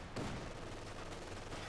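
Sustained automatic gunfire from a Company of Heroes 2 battle between Wehrmacht and British forces, a steady dense rattle with a sharp loud burst near the start, continuing without pause and with no talk.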